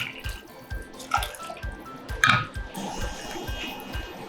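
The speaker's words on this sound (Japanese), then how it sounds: "ここにですね、水ですね。" Water pours into a pot of stir-fried doubanjiang chili bean paste, a soft splashing and gurgling stream with faint metallic clinks, close and alone.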